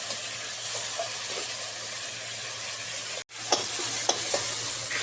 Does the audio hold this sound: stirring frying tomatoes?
yes